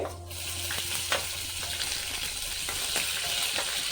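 Cumin seeds and chili dropped into hot oil for a dhaba-style whole masoor dal, giving a steady close sizzle with small pops and occasional stirring clinks throughout.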